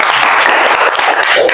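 A class bursts into short, loud applause, many hands clapping close by in a quick dense flurry with faint murmuring beneath.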